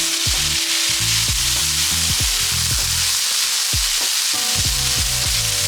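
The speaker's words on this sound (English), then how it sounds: "Just make sure all the white rice starts to look brown and sauteed." Fried rice with shrimp and eggs stir-fried in a pan, a steady loud sizzle running throughout with repeated scraping and clanking of a utensil against the pan in an uneven rhythm.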